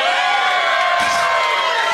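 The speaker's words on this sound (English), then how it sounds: "Stop cheering." A studio audience at a live comedy podcast taping cheers and whoops loudly in a dense, continuous burst of crowd noise that fills the whole moment, with no single voice standing out.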